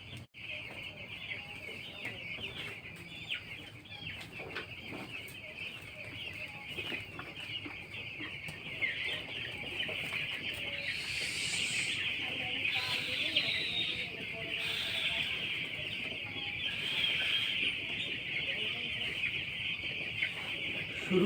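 Poultry chickens cluck and call steadily in a farm shed during Ranikhet vaccine watering, a dense flock chorus rising in the second half.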